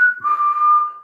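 A single steady whistled note, clear and close, held for about a second after a brief higher start.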